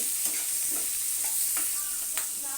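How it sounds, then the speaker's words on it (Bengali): Vegetables with salt and turmeric powder fry lightly in a pan as they are stirred, giving a steady close hiss and several soft spatula scrapes and taps. "এবারে সব একসাথে এরকম একটু নেড়ে সেড়ে হালকাভাবে আমি একটু ভেজে নেব"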